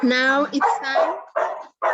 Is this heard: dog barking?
yes